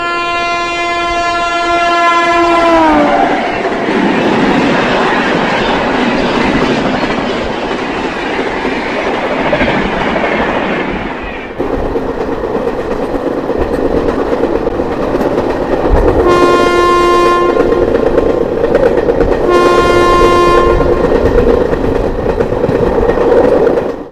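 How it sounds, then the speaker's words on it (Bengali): A passenger train on an Assam line between Guwahati and Nagaon sounds a long, loud horn as it pulls away, then runs steadily along the rails with continuous rumbling wheel noise and two further short horn blasts later on. "ট্রেনটা কিন্তু হরেন দিয়ে ছাইরা দিল"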